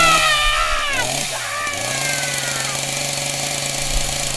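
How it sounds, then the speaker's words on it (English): A chainsaw engine runs loudly and close by, its pitch dipping and rising as it revs before settling into a steady buzzing drone. "It's just my trusty chainsaw."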